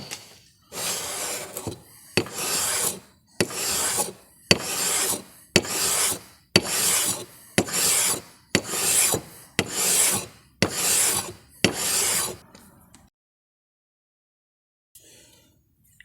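Sanding a brand-new hand plane with 220-grit abrasive: eleven steady, loud rasping strokes back and forth in an even rhythm, then near silence with a faint scrape at the end.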